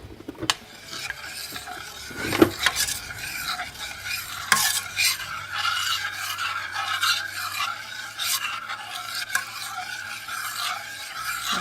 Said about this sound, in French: je vais aider mon chocolat à fondre en remuant